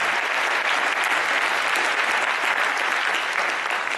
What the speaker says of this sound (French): je vous demande des applaudissements